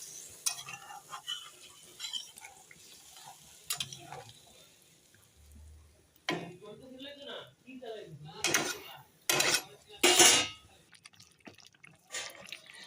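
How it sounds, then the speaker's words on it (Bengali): Eggplant is stirred in a cooking pan for a begun bahar dish, giving scattered scraping and clattering knocks along with wet drips, while someone talks over it at moderate volume. "বেগুনগুলো দিয়ে একটু সুন্দর করে আমি নেড়ে দিচ্ছি দেখো"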